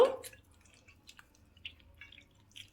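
Soaked tamarind squeezed and mashed by hand, soft wet squelches and drips in a quiet room, one louder squish at the start followed by faint scattered drips and squishes.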